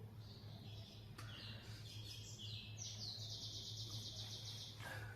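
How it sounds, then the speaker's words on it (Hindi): Early-morning birds chirp in a quiet spot, with bright, rapid high tweets and trills in short bursts over a low steady hum. One faster warbling run lasts near two seconds. "चिड़ियों की आवाज़ आ रही है"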